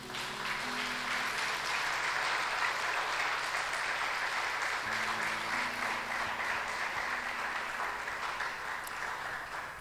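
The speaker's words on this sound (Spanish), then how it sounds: "Dale un aplauso fuerte al Señor" Church congregation applauding during a worship service, a continuous full round of clapping with sustained organ-like tones humming underneath.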